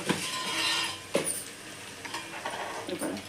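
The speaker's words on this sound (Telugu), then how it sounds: "ఆ తర్వాత చిన్నగా తరుక్కున్న ఉల్లిపాయలు పచ్చిమిర్చి వేసుకోండి." Chopped onions and green chillies hiss and crackle in hot oil in a kadai with carom seeds, a steady close sizzle broken by a few sharp stirring scrapes and clinks of a spoon against the pan.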